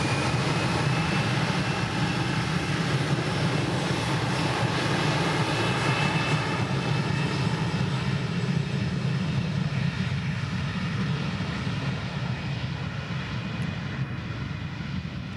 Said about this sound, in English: As the Air France A321 takes flight